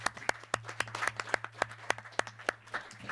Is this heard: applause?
yes